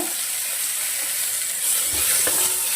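Tomatoes frying in a pan with onions give off a steady, loud sizzling hiss that holds the whole time, with a faint scrape partway through.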